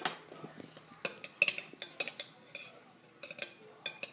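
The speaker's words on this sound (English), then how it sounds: "Now we're going to get our spoons and we're going to stir it." Spoons clink and scrape against a bowl while stirring fruit salad, giving a series of sharp, close metallic taps and clatters in an uneven rhythm with short pauses between.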